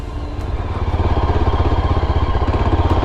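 A Yezdi Adventure motorcycle riding off-road in first gear, its engine a loud, close, steady throbbing thrum with rapid rhythmic pulses that build slightly in the opening second, with no voices.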